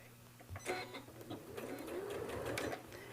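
Sewing machine with a zipper foot stitching fabric, a quiet uneven run of short mechanical bursts and clicks up close.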